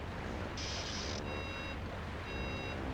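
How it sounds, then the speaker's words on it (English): Reverse beeping from a vehicle in the video game Donkey Kong 64, a few short high beeps repeating over a steady engine-like rumble, with no speech. "whoever's the one who came up with the idea to actually put a reverse beeping sound on that thing, he deserves a medal"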